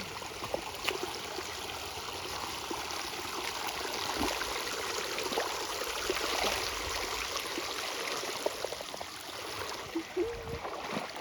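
A small stream flows steadily outdoors, its even broadband rush of water continuous and moderately close throughout, with no talk over it.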